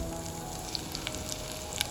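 Onion frying in a couple of spoonfuls of hot oil in a kadai, a steady soft sizzle with a few sharp pops and crackles, close and alone without talk.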